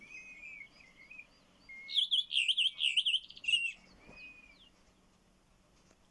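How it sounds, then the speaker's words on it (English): A redwing sings a burst of high, thin chirps and twittering trills, fairly close and clear, over a faint background, then fades to quieter calls. "It was the Redwing, tonight's bird."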